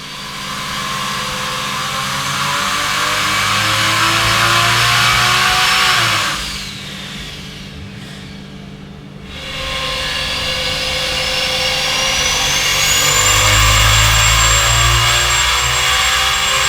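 A turbocharged Ford Barra engine runs hard on boost, loud and close, with a rising whine and turbo hiss, a brief drop in intensity midway, then climbing again to a high, strained pitch.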